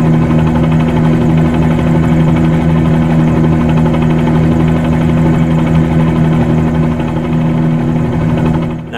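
A piston-engined B-47-G2 helicopter in flight within a flight simulator game, a steady loud droning engine and rotor hum with a constant low throb throughout.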